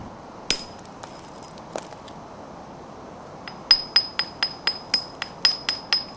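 Flint knapping with a stone striking rock to nibble material from an edge: a few scattered sharp clicks, then a rapid series of about ten crisp, glassy taps, close and clear over a quiet background.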